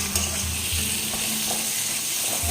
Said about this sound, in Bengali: এবার দেবো টমেটো। এবার এটা খুব ভালো করে একটু কষাবো